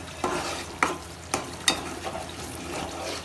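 Mushroom curry masala being stirred in a pan: a spoon scrapes and taps at a steady rhythm, about six distinct strokes over a soft sizzle, close and clear.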